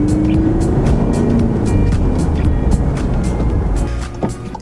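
A Volkswagen Golf pulls away, its engine note climbing briefly before settling into a steady, fairly loud drone of engine and road noise that continues close by with no talk.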